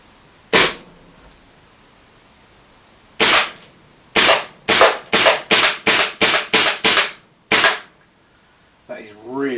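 A KWA KZ61 gas blowback airsoft SMG fires sharp, loud pops, first a lone shot, then a string of rapid single shots in an even rhythm, followed by a brief voice.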